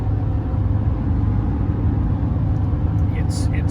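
A Ford Super Duty diesel truck engine runs with a steady low rumble throughout, while a voice talks over it and a few brief higher tones appear near the end.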